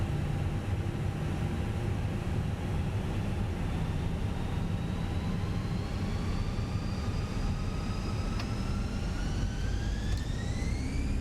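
Fenix A320 engines in Microsoft Flight Simulator 2020 spool up for takeoff at Brussels, a continuous jet roar with whining tones that rise steadily in pitch over several seconds, loud and alone.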